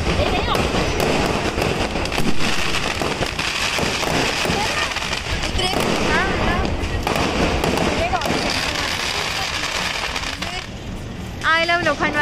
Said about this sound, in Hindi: यहाँ पे सब लोग मिलजुल के पटाखे फोड़ रहे हैं।